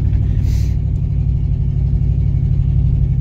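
Old Oldsmobile running with a freshly fitted old transmission being broken in, a steady loud low engine rumble with a brief hiss early on, heard from inside the car.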